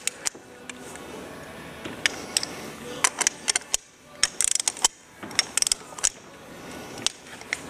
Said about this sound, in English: I might just go ahead and torque this down and see what happens.